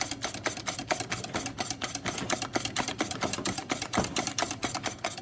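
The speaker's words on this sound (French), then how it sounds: "on va le mettre dans le petit batteur pour que ça puisse monter" A small electric mixer whips génoise sponge batter at full speed, a steady close whir with fast, regular beating pulses running the whole time and no talking.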